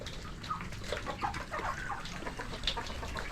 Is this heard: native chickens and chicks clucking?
yes